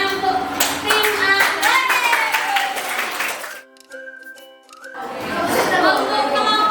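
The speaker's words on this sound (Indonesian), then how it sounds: "Kita tepuk tangan untuk tim A." Students in a school classroom clap for team A, a burst of loud clapping with chatter and light laughter that stops briefly and then starts again.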